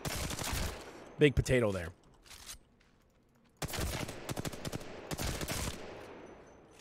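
R-301 rifle fire in Apex Legends, several rapid bursts of close, loud automatic shots separated by pauses, with a voice talking briefly between bursts.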